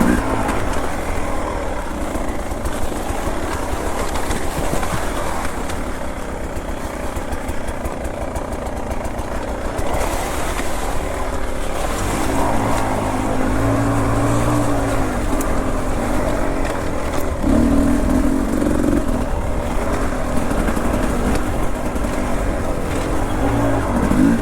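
A Beta 300RR enduro motorcycle runs steadily along a wooded trail, its engine droning continuously at moderate loudness with slight pitch shifts as the throttle changes.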